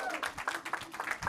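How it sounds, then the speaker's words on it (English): An audience at a Tesco master class gives a speaker a short round of applause, steady clapping that fills the whole moment with faint voices underneath. "Give him a round of applause."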